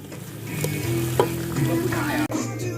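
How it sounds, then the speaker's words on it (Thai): Chicken stir-frying with fermented fish sauce in a hot pan, a steady close sizzle with stirring scrapes as the mixture is cooked down until dry. "เดี๋ยวขัดให้แห้งสักหน่อยครับ"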